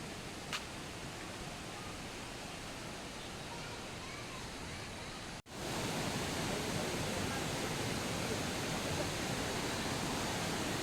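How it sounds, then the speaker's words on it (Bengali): Khandadhar waterfall in Keonjhar rushes in a steady, dense roar with no voices, briefly cutting out near the middle before returning slightly louder and just as constant. "ঝর্ণার আওয়াজ তো আপনারা শুনতেই পারছেন, কি সুন্দর আওয়াজটা আসছে"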